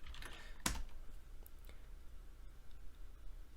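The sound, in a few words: typing a password on a computer keyboard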